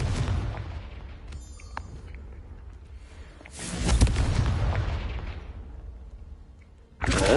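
Fiery Confringo spell blasts in a Harry Potter video game, one heavy booming explosion swelling midway and another bursting at the end over a dense rumbling background, with no talk.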